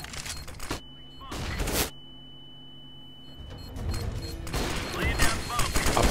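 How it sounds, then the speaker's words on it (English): A flashbang grenade going off in a tactical shooter: a sudden bright crack followed by a sustained high ringing tone that lingers for several seconds, with a second burst of noise and a voice talking later. "Flashbang."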